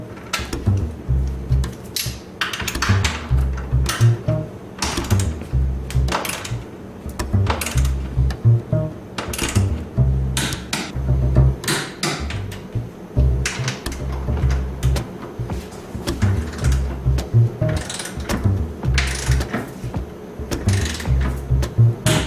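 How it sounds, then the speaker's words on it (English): Rhythmic ratcheting and clicking as a torque wrench with a hex key tightens front strut brace bolts on a Porsche 911, repeated close metallic ticks over a low mechanical hum. "So torque wrench and our new hex key"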